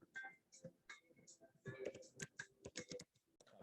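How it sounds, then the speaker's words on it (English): Quick bursts of keystrokes on a computer keyboard as a web address is entered, close and fairly quiet, with a voice speaking over the clicking. "Let me just type it."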